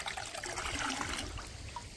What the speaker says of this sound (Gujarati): તો આની અંદર આપણે ગોળનું પાણી નાખી અને બધાને પાવાના છે